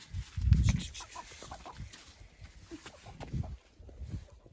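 Chickens cluck and murmur close by in short bursts at a villa, with a louder low cackle near the start and scattered softer clucks after.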